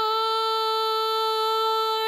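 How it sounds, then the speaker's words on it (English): A sustained sung vocal note drenched in heavy plugin-emulated vintage chamber reverb, its harmonics ringing steadily and evenly for about two seconds with no other sound. "There's obviously a lot more reverb than I would normally put on a vocal"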